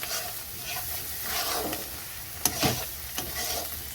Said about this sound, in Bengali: এখানে মশলাটা কষানো হয়ে গেছে, মশলাটা ভালো গন্ধ বার হয়েছে